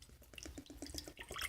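Warm water mixed with leftover clear glitter glue pouring from a bottle into a bowl, a soft continuous trickling and splashing with gurgling pulses, close and quiet.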